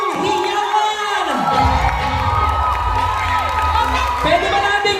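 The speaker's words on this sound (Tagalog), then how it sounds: "Kung proud ka, palakpakan mo na malakas at may kasamang milyong-milyong hiyawan" Large crowd at an earners' recognition event cheering and whooping loudly, a sustained roar of shouts and applause with high excited voices throughout.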